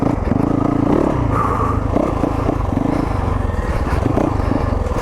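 Yamaha YZ450FX dirt bike ridden over technical terrain, its engine close and loud with an uneven, throbbing, sputtering note that rises and falls as the clutch is slipped, plus rattles and scrapes.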